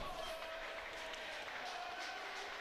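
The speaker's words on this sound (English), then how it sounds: "Crowd getting very vocal, trying to extend this to a 5th game for their home play abuse." A home crowd at a volleyball match cheers and claps in a sustained, somewhat distant roar that stays even from start to finish.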